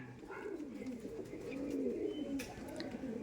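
Pigeons coo softly and continuously, low rolling calls layered over a faint background hum, with a few light clicks.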